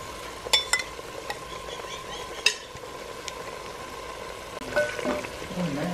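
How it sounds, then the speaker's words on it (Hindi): Spice paste of garlic, ginger, salt, chili and turmeric fries with yogurt in a pan for mutton kofta curry, making a soft continuous sizzle. Sharp metal clinks of a spoon on the pan cut in, with no talk. "लहसुन अदरक भूनने के बाद इसमें पेस्ट डाल दें। इसमें नमक मिर्च हल्दी और दही, दही भी इस टाइम पर डाल दें।"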